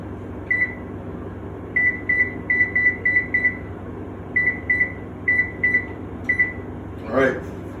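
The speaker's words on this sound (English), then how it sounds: "And we're gonna put the timer on." A microwave-style timer being set gives a series of short, clear electronic beeps in uneven bursts, about a dozen in all, over a low appliance hum, ending with a louder tone.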